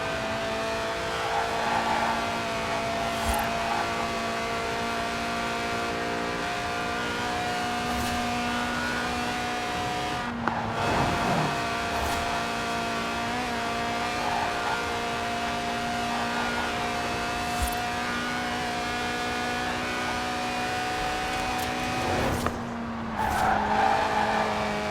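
In Forza Horizon 4, a lightweight Lotus with a 190-horsepower 1.8-litre engine revving to 8,000 RPM holds a sustained high, whining engine note, with brief drops and tire squeals around ten and twenty-three seconds.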